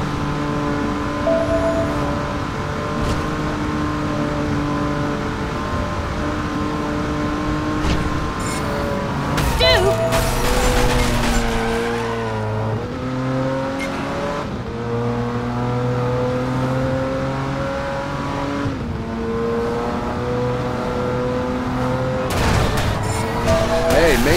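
Car engine in the Driver San Francisco racing game drones steadily, pitch climbing through gears with rough shifts and brief tire noise, while characters talk over the motor throughout.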